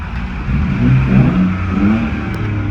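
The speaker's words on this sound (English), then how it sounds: "We got the new exhaust on, and oh my god, does it sound so much better." A Mercury Cougar with a new exhaust revs up in a couple of throttle blips, a deep, throaty exhaust rumble rising and falling close by.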